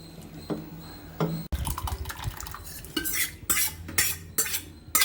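A utensil mashes and churns cooked greens and lentils in a metal pot, wet squelches and scraping strokes coming quickly and close, with a few sharp clinks against the pot.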